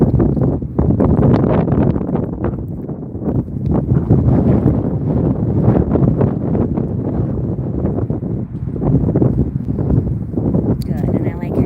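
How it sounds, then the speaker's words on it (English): Strong wind gusting outdoors on an open slope, a loud buffeting roar over the microphone that rises and falls unevenly throughout, with voices partly heard beneath it. "the wind is really kicking up and making everything scary"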